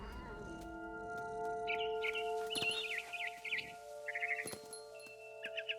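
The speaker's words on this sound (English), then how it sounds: "Then I heard chirping outside my window. It was a barn swallow going back to her nest." A barn swallow chirps outside a window in the What Remains of Edith Finch video game, a series of quick bright twittering bursts over a steady soft tonal music background.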